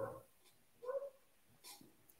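A dog gives a few short whimpers and soft yelping barks close by, three separate bursts spaced over about two seconds at fairly low volume.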